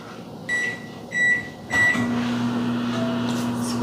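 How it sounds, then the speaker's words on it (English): Microwave oven being started for a short heating run: three keypad beeps, then a steady close hum of the running oven with no talk. "So we're gonna put it in the microwave for 10 seconds."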